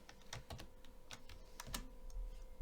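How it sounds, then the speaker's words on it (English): Someone types on a computer keyboard while entering CSS code, with light, quick, irregular key clicks that sound close and quiet and come in short clusters with no voice. "which I can show you typing something like this"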